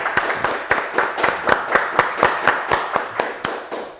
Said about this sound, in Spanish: Vamos a recibir con un fuerte aplauso a Julio César Hernández.